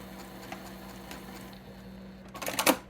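A sewing machine stitching a small fabric piece for a quilt block, with a faint ticking whir at the start and a louder, faster burst of stitching close by near the end, with no talking.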